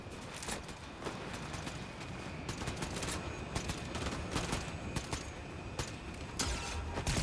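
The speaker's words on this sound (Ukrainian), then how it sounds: "Вже в мене стріляють." Rapid bursts of gunfire crackle continuously, with scattered louder shots popping through a dense barrage, in a Fortnite Battle Royale firefight.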